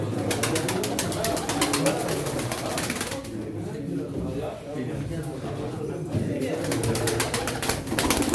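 Pigeons coo softly and repeatedly in the background during a pigeon auction in Çorum, Turkey, while someone talks over them, with occasional fluttering and rustling.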